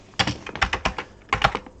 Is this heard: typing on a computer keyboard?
yes